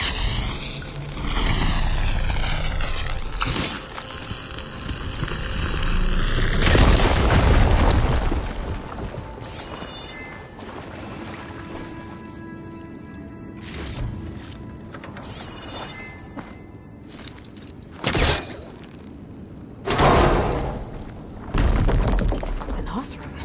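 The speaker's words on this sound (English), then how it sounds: "Should be able to blow up that fire gleam." A fire gleam blown up in Horizon Forbidden West, with a heavy roaring blast and rumble followed by scattered cracks, crashes and debris hits. A voice talks in between.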